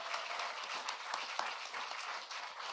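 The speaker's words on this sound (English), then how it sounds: "You can give yourselves a round of applause." An audience claps for opportunity scholarship students at a student debt relief address, a steady, moderately distant wash of applause with scattered sharper claps and no talking.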